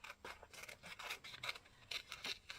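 Scissors snip a bunny picture out of paper for a collage gluebook: a quick, close run of soft, rhythmic cuts, fairly quiet.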